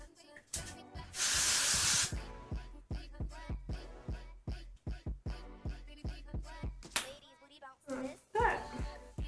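A loud burst of hair glue aerosol spray hisses for about a second near the start, followed by a later shorter spray amid rapid taps and handling noises.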